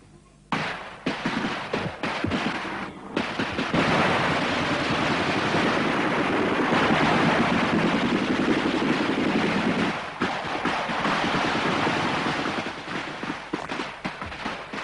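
Sustained battlefield gunfire from a Vietnam War firefight involving air cavalry soldiers, a dense, loud roar of rapid shots and impacts running nearly continuously, with brief sharper bursts near the start and end.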